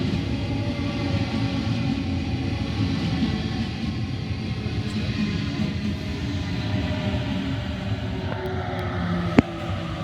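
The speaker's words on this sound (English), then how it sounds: "Here we have a B7 arriving at platform number 1." A Sydney B7 train pulls into platform 1 at Hurlstone Park station, a loud steady rumble of wheels and motors that holds throughout, with a brief sharp click near the end.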